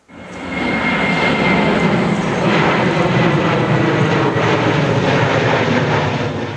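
A jet plane's engine roars steadily as a loud, broad, continuous rush that swells in quickly and holds at full strength to the end, with no voices.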